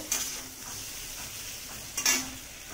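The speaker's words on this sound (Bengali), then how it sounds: "লাল লাল করে আলুটা ভেজে নেব।" Potatoes fry with black cumin in a pan, a low, soft sizzle interrupted by two sharp scrapes of a spatula against the pan.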